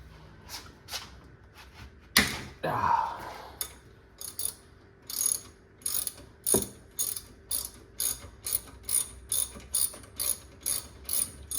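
Ratchet wrench unscrewing bolts on a Ford Focus brake assembly: a run of quick, close clicking ratchet strokes in a steady rhythm, preceded by a couple of louder metallic clanks and a scrape.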